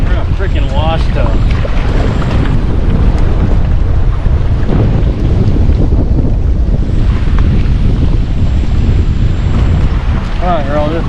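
Heavy wind buffets the microphone on a kayak out fishing among big waves, with water slapping and splashing against the hull, loud and constant, while a voice speaks briefly.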